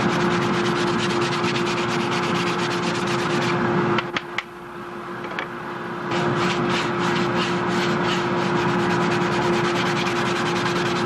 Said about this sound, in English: I never get sick of using this sanding bench